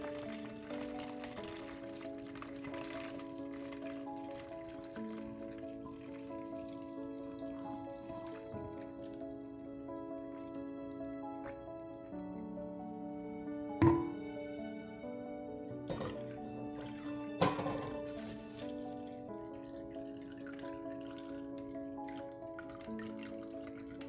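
Carrot and beetroot juice dripping through a small strainer, faint soft drips and trickles under a quiet background hum, with a couple of sharper clinks partway through.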